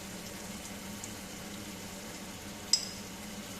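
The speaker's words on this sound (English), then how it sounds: "And now I am going to just let it simmer away gently, but on a very high flame" Bengali prawn curry with potol, potatoes, ghee and garam masala bubbles in a pan over a high flame, a faint, steady low simmering hiss with one brief sharp pop near the end.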